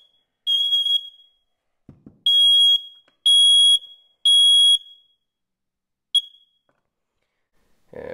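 A smoke alarm emits loud, piercing high-pitched beeps in short bursts, irregularly spaced, with a faint thud in between and silence around them.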